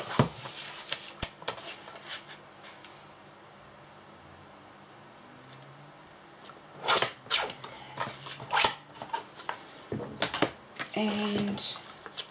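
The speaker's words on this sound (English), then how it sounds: "And I'll just quickly trim this piece off." Paper piece being trimmed with a paper trimmer for a matchbook craft project, heard as scattered sharp clicks and brief scraping slides, fairly close, with quiet rustling between and no talk.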